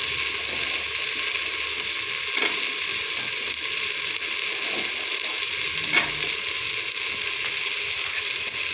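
Carrots frying in oil with roasted masala for a mixed vegetable dish produce a loud, even sizzle up close, with a few faint stirring clicks and no talking.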